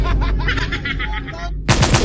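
Shotgun fire in the video game PUBG: a loud blast bursts in near the end after a stretch of tonal, voice-like game audio, the shots punchy and close.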